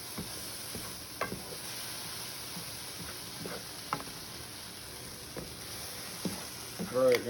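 Onions and garlic sizzle softly in a pan while a spoon stirs and scrapes them for salsa, with intermittent knocks and clatters against the pan and a louder scrape near the end.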